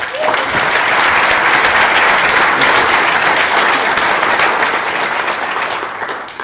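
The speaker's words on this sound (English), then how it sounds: "please join me in giving a big round of applause to Dries Buytaert" A conference audience gives a keynote speaker a big, sustained round of applause at a Drupal design event: a loud, dense roar of clapping that holds steady and then starts to taper at the end.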